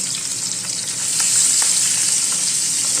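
Five large pabda fish frying in a crowded frying pan, a loud continuous sizzle and crackle of hot oil that swells slightly midway, with no talking.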